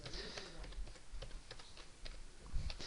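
Soft, rapid clicking of computer keyboard keys during Java programming in Eclipse, a steady run of light taps heard close and alone.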